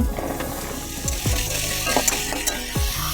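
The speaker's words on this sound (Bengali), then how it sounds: "এবারে আমি আলুটা ভেজে নেব।" Potatoes sizzle in hot oil in an outdoor kitchen, a steady crackling fry broken by a few scraping stirs of a utensil against the pan, close and fairly loud with no talk.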